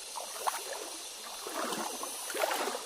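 A cold river at the foot of a mountain in Bicol flows with a steady broadband rush, and soft gurgles and splashes rise now and then above it. No one speaks.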